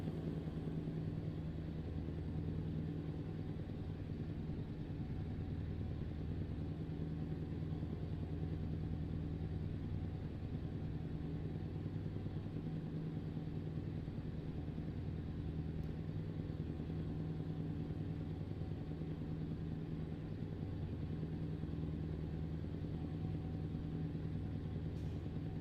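A truck engine in Euro Truck Simulator 2 hums in a steady, low droning rumble while cruising at around 70, constant and unbroken with no talk over it.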